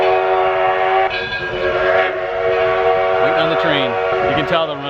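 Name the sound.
train passing at Greenfield Village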